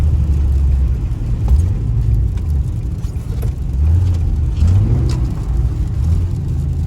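A Nissan 350Z drifts through snow, its engine droning and rising in repeated revving swells, near and steady over a rumbling background, with no talk.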